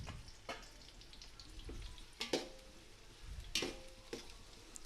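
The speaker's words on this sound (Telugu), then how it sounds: "ఇప్పుడు మొత్తం బిర్యానీ స్పైసెస్ అండి, వీటన్నిటిని యాడ్ చేసుకొని వేపుకుందాం." Onions and biryani spices frying in a pan for mutton pulav, a steady close sizzle with a few sharp stirring clatters scattered through, no talking.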